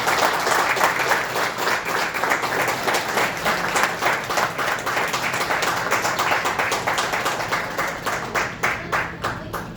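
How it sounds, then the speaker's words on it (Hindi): Loud, dense audience applause welcoming a speaker onto the stage at a talk, a continuous roar of many hands clapping that holds steady for nearly ten seconds before thinning slightly at the end. "आपकी जोरदार तालियों के साथ"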